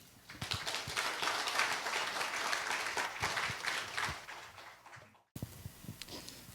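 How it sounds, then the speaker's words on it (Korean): A crowd claps steadily in sustained applause, loud and dense, before a brief cut and a quieter spatter of clapping resumes. "여러분 큰 환영의 박수 부탁드립니다."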